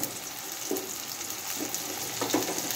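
Cauliflower dropped into a hot pan with eggplant already frying, a soft steady sizzle with a few brief scrapes and pops, fairly faint and close.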